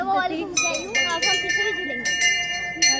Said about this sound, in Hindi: बच्चे घंटियाँ बजा रहे, सुनाई भी नहीं दे रहा कि क्या हो रहा है।